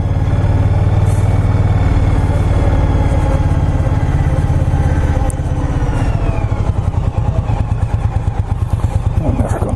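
Indian Scout Bobber motorcycle engine running loud and close for the whole stretch, a deep steady thrum with a rough pulsing beat that gets slightly choppier near the end, with some mechanical clatter over it.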